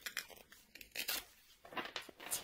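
Quick papery flicks and snaps of tarot cards being shuffled, irregular and close, in short bursts.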